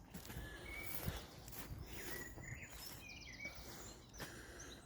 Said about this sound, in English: all you can hear is bird call